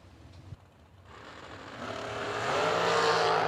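Dragster drag racing at a track, cars roaring off the line and accelerating, engine noise building steadily from quiet to a loud sustained rumble and whine.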